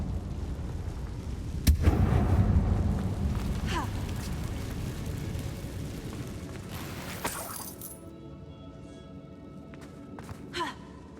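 Confringo fire-blast spell in the video game Hogwarts Legacy, cast in an abandoned mine: a sudden sharp burst followed by a rumbling, crackling explosion that decays over several seconds, then quieter ambience with faint clicks.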